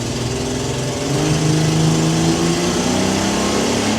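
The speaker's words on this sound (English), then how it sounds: "Oh, that's the clutch slipping." A 1965 Ford Econoline engine revs up with a slipping clutch, a steady droning mid-pitched roar that climbs and wavers for about four seconds, loud and close with no talking.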